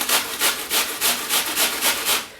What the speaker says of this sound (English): So we're going to grate an apple just using a normal box grater.